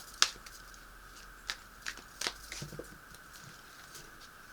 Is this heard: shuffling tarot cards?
yes